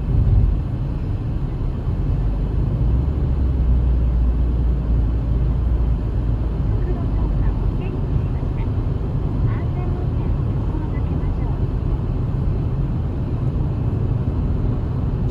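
A car drives along a road in Northern Cyprus, its steady low engine and tire rumble filling the cabin without a break, with someone talking over it.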